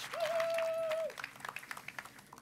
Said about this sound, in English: give a big round of applause to our coaches